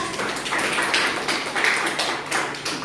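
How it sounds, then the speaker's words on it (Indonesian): A classroom audience applauds a student presenter with a short, soft patter of hand claps that stays steady for a few seconds at moderate distance. "Kasih aplaus dulu untuk Tasya"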